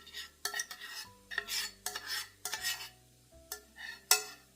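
A spoon stirs biscuit crumbs with melted chocolate and orange juice in a bowl for a Jaffa-style dessert in glasses, giving repeated close scraping and clinking strokes in separate bursts with pauses between them and no talking.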